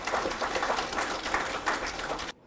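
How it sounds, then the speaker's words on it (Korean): An audience at an academic conference applauds a professor after his presentation, brief dense clapping that cuts off abruptly. "이 좋은 발표해 주신 우리 방기철 교수님한테 박수 한번 부탁을 드리겠습니다"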